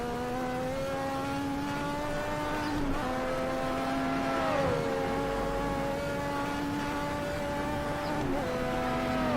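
A 1000-horsepower Lotus 98T Formula 1 car accelerates flat out on the Nordschleife, its engine holding a loud, high, sustained wail with brief dips in pitch at each gear change.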